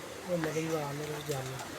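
Competition-bred racing pigeons coo softly in a short, throaty burst, close by and fairly quiet against faint background noise.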